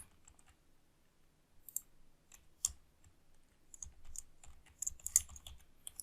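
Typing on a computer keyboard while writing HTML code, irregular close clacks and clicks in short bursts separated by near-silent pauses.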